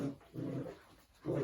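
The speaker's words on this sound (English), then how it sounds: "random dogs playing around" Dogs play indoors among nine-week-old puppies, with short panting huffs and low growly breaths in quick close bursts, no talk.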